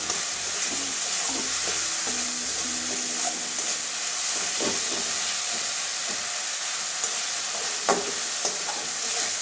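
Ingredients for a mushroom and soybean curry fry in a pan, a steady close hiss of sizzling oil with occasional scrapes and pops, even and continuous.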